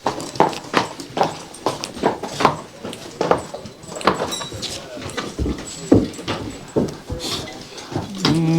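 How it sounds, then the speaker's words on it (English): Harnessed horses being led back inside to be unharnessed clop along in loud, close, uneven hoofbeats, with people talking over them and occasional knocks. "get these horses back inside and get them unharnessed."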